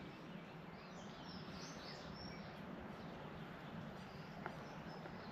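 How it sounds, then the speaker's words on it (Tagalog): Faint bird chirps and calls in a forest on a freezing winter morning, scattered over a steady, low outdoor hum, with one brief sharper call near the end. "huni ng mga ibon dito sa kagubatan"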